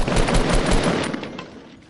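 Rapid automatic gunfire in a video game, a loud, fast burst of shots that thins and trails off over two seconds.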